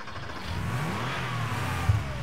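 Warthog vehicle engine in the Arma 3 video game starting and revving, a steady mid-pitched motor drone with rising whine and a brief thump near the end, close and loud with no talk.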